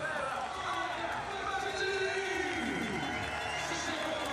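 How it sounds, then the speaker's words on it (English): A home crowd cheers a rider at a 4X mountain bike world championship race in Val di Sole, Trentino, Italy, as a steady, dense roar of distant voices and babble with no clear gaps. "The home crowd certainly cheering her in then and helping take her through."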